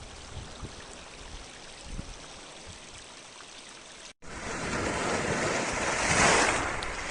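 Black Sea waves breaking on the shore, a soft distant wash that cuts off briefly, then returns as louder, nearer surf with wind buffeting the microphone, swelling toward the end.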